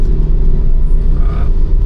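A Maruti Ertiga driving on a curvy road, heard as a loud, steady low engine and road rumble from inside the car, continuous throughout with no speech.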